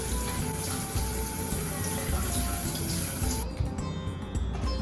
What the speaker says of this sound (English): First thing we do is wash our head of lettuce.